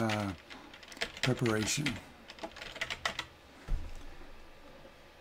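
Typing on a computer keyboard: a handful of quick, close key clicks scattered between the words of someone speaking over them.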